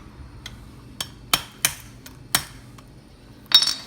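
Sharp, separate taps of a claw hammer while fitting Mk5 R32 brake lines on a Mk7 GTI, about seven close metallic knocks at an irregular pace, with a brighter clinking strike at the end.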